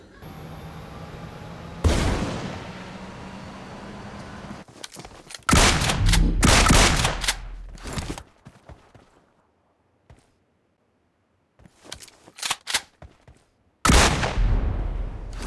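Shotgun blasts from a DBS double-barrel in the battle-royale game BGMI, a loud burst near the start, then a dense cluster of heavy shots, scattered quieter hits and a final sustained burst, with no voices.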